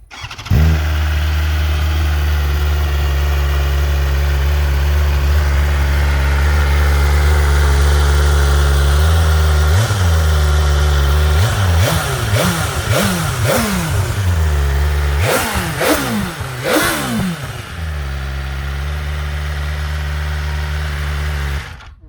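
A 2021 BMW S1000RR motorcycle fires up and settles into a loud, steady idle, then is blipped through a series of sharp throttle revs before dropping back to idle, heard close with no talking.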